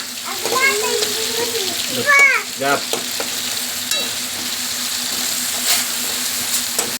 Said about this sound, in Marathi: आपला कांदा लालसर भाजून झालेला आहे